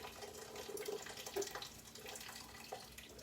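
Starch water is poured into a cooking pan while making Korean vegetable japchae, producing a soft, continuous trickling splash that stays faint and steady for a few seconds without speech.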